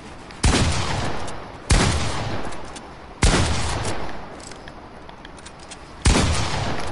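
Four loud, spaced gunshots in Fortnite, each a sharp crack followed by a long decaying rumble, firing at irregular intervals of one to three seconds with no talk over them.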